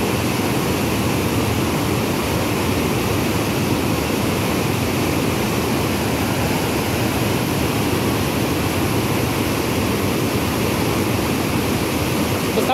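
Water pours in a constant broadband roar at the full Loreto dam in San Marcos, a dense, unbroken rushing that stays loud and even throughout.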